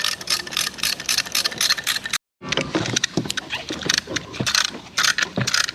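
A caliper piston compressor tool pushes the brake piston back on a 2018 Audi Q3, making rapid, close ratcheting clicks that stop for a brief moment and then carry on.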